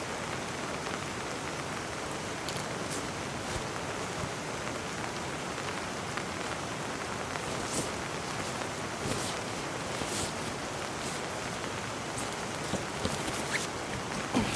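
Heavy rain falls on a camping tent in a steady, dense hiss of drops that never lets up, with no voices heard.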